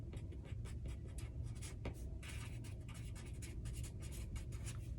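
A pen or pencil writes on paper while a color theory chart is being made, giving close, quiet scratchy strokes in quick irregular bursts with short pauses, and no voice.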